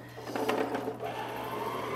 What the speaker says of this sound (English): it'll be wound with just a little bit of tension and consistent tension on the bobbin